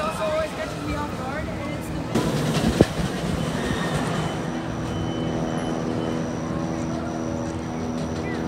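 The New Texas Giant roller coaster runs at Six Flags Over Texas, a loud, continuous rumbling clatter of cars on track with a sharp metallic clank midway and a droning roar.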